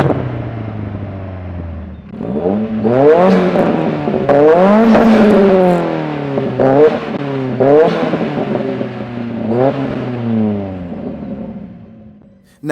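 Two tuned rival hatchbacks, a 450 bhp Astra GSi and a 425 bhp Focus RS, revved hard while standing, with repeated loud rising and falling engine blips, a few seconds of idle rumble first, then sharp successive revs with no talking.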